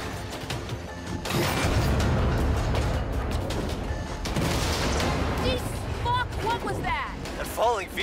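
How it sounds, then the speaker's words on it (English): Dense rumbling blasts and crackling gunfire-like bursts fill the scene in Saints Row (2022), with swooping whistles toward the end, loud and continuous under a busy game-like mix. "I'm seeing explosions all over."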